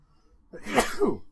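A person lets out a single sharp sneeze, close by and sudden after a moment of near silence.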